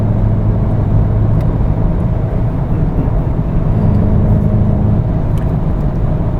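A 2018 facelift VW Golf GTI Performance with a 2-litre TSI petrol engine accelerates in sport mode, heard from inside as a loud, steady drone of engine hum and road noise with no talking.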